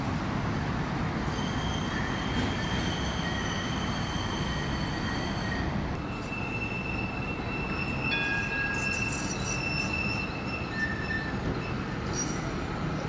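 A tram passes at night with loud squealing wheels, high screeching tones over a steady rolling rumble, sustained and close throughout.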